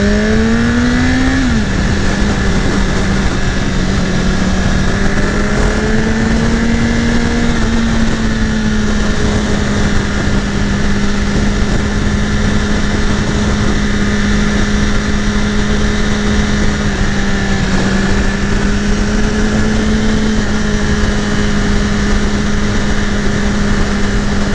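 A 2018 BMW S 1000 RR motorcycle engine drones steadily while riding, a loud continuous hum holding a fairly even pitch with small rises and dips, under heavy wind noise throughout.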